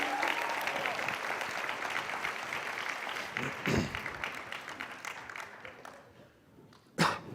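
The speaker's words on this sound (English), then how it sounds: "Please give them a round of applause as they take their seat." Audience applause fills a TED talk hall after a magic trick, a steady wash of many clapping hands that slowly thins out, with a brief louder burst of claps near the end.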